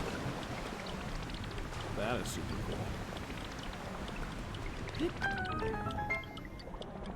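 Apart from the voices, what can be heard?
waterfall in The Legend of Zelda: Tears of the Kingdom video game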